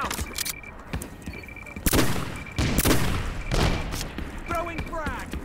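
Video game combat with a frag grenade and gunfire: repeated sharp shots, thumps and a booming blast, loud and close, while voices shout callouts throughout.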